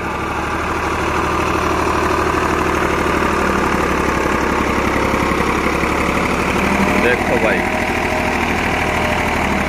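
A Greaves 353 tractor engine of about 35 HP runs steadily while pulling a plough, a continuous loud low drone with knocking vibration throughout, and someone speaks briefly over it.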